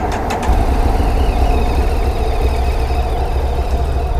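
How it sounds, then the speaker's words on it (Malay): A Morbidelli T1002 VX touring motorcycle, a 2025 test-ride unit, runs at a steady idle, its engine a loud, continuous low rumble held close throughout with no talking. "Ini Morbidelli T1002 VX. Bunyi dia macam mana?"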